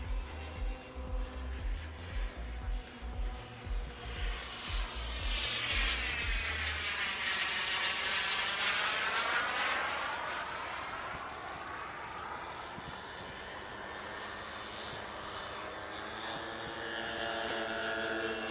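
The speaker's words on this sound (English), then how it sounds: "So the Rapide was also used as a small airliner in its day." A de Havilland Dragon Rapide biplane airliner at an air show passes overhead, its propeller engines droning with a rising then falling pitch, loud at its closest then fading into the distance.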